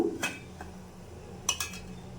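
A spoon knocks and clinks against a pot of tomato rasam, two separate bursts of metallic taps over a quiet room.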